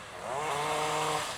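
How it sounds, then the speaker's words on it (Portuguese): Chainsaw cutting tree branches outdoors in Florida, a steady nearby buzzing whine held for over a second with a slight rise in pitch, no voices. "Os caras estão cortando galho."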